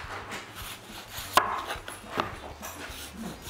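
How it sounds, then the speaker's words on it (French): Onions being chopped with a knife on a board: a series of crisp, irregular cutting taps, close and fairly quiet, with one sharper knock near the start and no talking. "on va couper des oignons"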